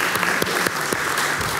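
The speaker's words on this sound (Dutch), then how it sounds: "een applaus." An audience at an event marking 60 years of Turkish labour migration gives a short round of applause, with individual claps audible in a steady, moderately close patter and no talk over it.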